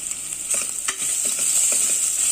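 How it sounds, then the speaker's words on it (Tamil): Onions and plantain pieces sautéing in a pan crackle with a bright, steady sizzle, broken by a few scraping stirs of a spatula, close and fairly loud with no voices. "இது நல்லா பொன்னிறமாக வதங்கட்டும்."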